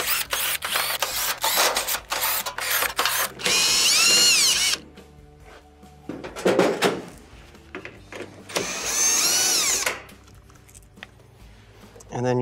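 Power drill backing out the number two Phillips screws from the upper console panel of a Whirlpool stove, with several long whirring bursts separated by short clicks and handling noise, loud and close.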